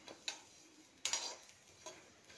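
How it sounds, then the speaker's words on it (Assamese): Sesame seeds dry roasting in a pan, giving a few sharp, sparse pops and crackles spaced irregularly over a quiet background. "ফুটালৈকে ভাজি কি ধুনীয়া ফুটিছে দেখিছোঁ"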